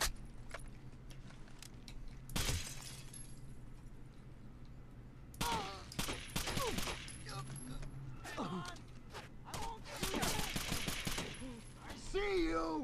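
Gunfire in Rainbow Six Vegas 2 cracks out in short bursts and rapid volleys, with clattering mechanical noises between the shots and someone talking faintly underneath.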